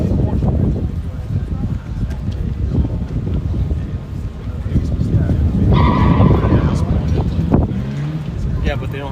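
Corvette and white Miata drifting at a competition, with tire squeal, skidding and engine roar, wind noise on the microphone, and a commentator talking over the action.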